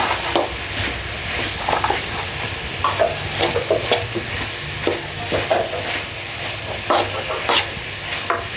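Masala with curry leaves sautéing in a pan, a steady close sizzle broken by repeated scraping strokes of a spoon stirring, with no talking.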